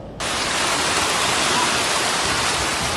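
Heavy rainstorm pouring down along the Malecón seafront, with flooded streets; a dense, steady roar of rain fills the whole clip after a brief quieter start, loud and close with no voices.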